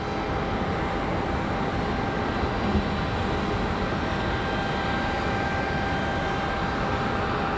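A JetBlue Airbus A220 airliner at Raleigh-Durham airport produces a steady, broad engine roar with a faint high whine, continuous and even at moderate distance.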